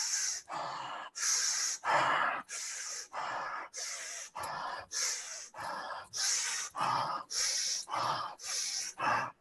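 A group doing active, powerful breathing exercises: forceful inhales and exhales repeat in a steady, loud rhythm, about a dozen breaths in quick succession, with no talking.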